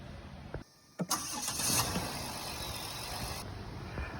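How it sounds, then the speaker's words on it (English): A car engine with an aged starter cranks briefly and catches, then settles into a steady idle, close and fairly loud with no talking. "we just started the car"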